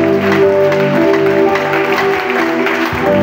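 A church congregation at a morning prayer service applauds steadily for several seconds, the clapping sustained over music with a voice faintly heard.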